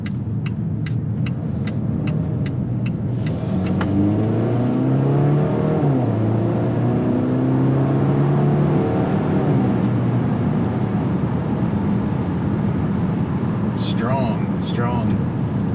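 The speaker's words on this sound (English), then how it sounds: "4-cylinder going uphill like that. That's tough." A 2019 Volvo V60 four-cylinder engine strains uphill, its revs rising and sweeping upward in pitch mid-stretch before settling back, heard from inside the car over steady road and cabin noise.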